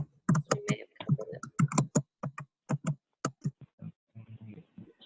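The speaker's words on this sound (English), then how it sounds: "if somebody's typing" Rapid clicking of a computer keyboard during an online astronomy webinar, with irregular bursts of keystrokes mixed in with a person talking throughout.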